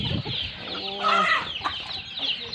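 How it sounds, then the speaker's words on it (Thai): Chickens cluck close by, a few short throaty calls mixed with a brief drawn-out cry over a busy outdoor background. "เราเลี้ยงไก่นะครับ"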